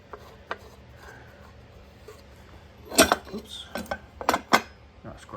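Metal bolts are handled, with a few soft clicks early on, then a cluster of sharp metallic clinks and rattles as the bolts are shuffled and knocked together nearby.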